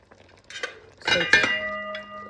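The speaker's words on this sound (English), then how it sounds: "I'm just gonna cover this and just allow the carrot to kind of steam" A lid goes onto a cooking pot of Jamaican stew pork with carrots on low heat. Close, light metallic clinks build to a sharp clatter, then a sustained ringing tone that slowly fades.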